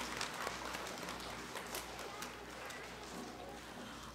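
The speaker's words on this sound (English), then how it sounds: "would you give yourselves another big round of applause?" A school awards day crowd of second grade children and their audience clapping in sustained applause, heard steadily from a distance throughout.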